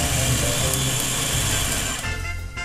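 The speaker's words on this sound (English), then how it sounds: "I've been blending this for a minute or so, and it still looks very thick" A blender runs steadily on a thick spice paste made with pickling spice, chili pepper and annatto, a loud continuous motor whir that drops in pitch and thins out near the end.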